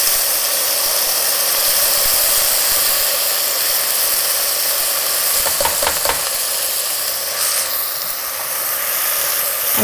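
Loud, steady sizzling of rice frying in hot ghee with spices, with a brief scraping stir partway through; no voices.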